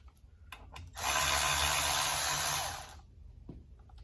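A loud, steady power-tool whir lasts roughly two seconds while the drive flange is removed from a full-floating axle on a G-body wagon, with a few faint clanks before and after.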